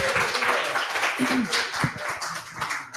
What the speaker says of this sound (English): Big round of applause for Marquez